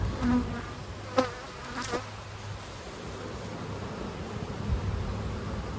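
Honeybees hum steadily inside a hive as they build comb on new frames, a continuous close buzzing with a few individual bees zipping past near the start.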